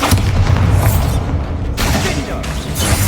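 In the Hogwarts Legacy video game, a Bombarda spell explosion lands as a loud, close boom with a rumbling, crackling tail. A second heavy burst follows about a second and a half later.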